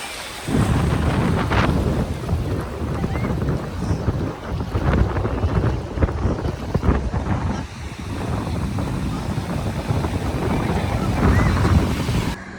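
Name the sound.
sea waves at a beach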